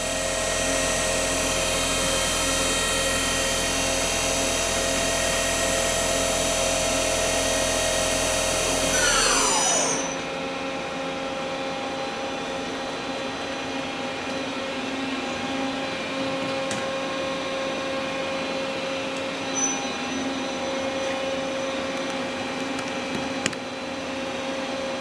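A 2004 Daewoo Puma TT2000SY CNC lathe with Y-axis, subspindle and dual turret runs its spindle at 2500 RPM, giving a steady whining drone that winds down around the ten-second mark and leaves a low, quieter machine hum.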